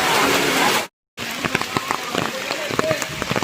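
Steady rain patters on a mountain pilgrimage trail to Sabarimala, the Erumeli–Mukkuzhi forest route in December, with dense close drops and occasional louder splashes; a brief gap of silence cuts in near the start.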